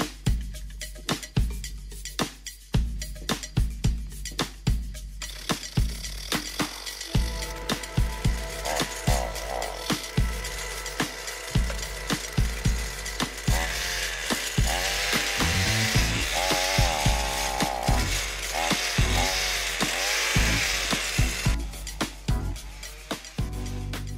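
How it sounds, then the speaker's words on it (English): A powered auger boring fence post holes into the ground, a loud close engine drone with rhythmic churning bursts that rises into a sustained strained whine midway, with no talking. "We're gonna start up the auger now and get to work."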